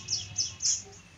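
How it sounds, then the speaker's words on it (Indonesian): A pet canary with a sore, swollen foot chirps three short bright notes indoors, close and fairly clear over faint background noise. "burung masih mau bunyi"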